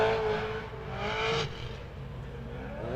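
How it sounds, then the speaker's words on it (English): A drift car revs in place, warming up its GT Radial tires at a Formula Drift qualifying session in Atlanta, engine whining high and steady for over a second before dropping to a lower rumble. "Warming up those GT Radial tires"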